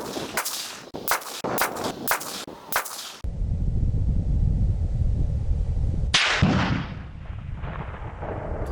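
A rifle fires hand-loaded ammunition at an outdoor range: a rapid string of sharp, loud cracks, then a long stretch of roaring noise and one more hard report close by.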